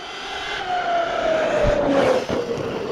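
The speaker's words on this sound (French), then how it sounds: "Ça c'est le moteur qui gueule que t'entends là" A Traxxas Sledge RC truck's electric motor whines at a high pitch, its tone sliding slightly downward, with rattling and gritty scraping underneath.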